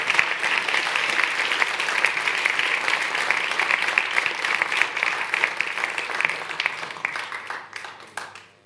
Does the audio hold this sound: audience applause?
yes